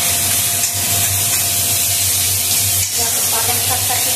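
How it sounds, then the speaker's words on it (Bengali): Chunks of potato fry in a pan with a loud, continuous sizzle and spitting hiss, close and steady, with a low hum running beneath and brief scraping stirs. "চাক চাক করে আলু কেটেছি, আলুটাকে ভাজা করবো।"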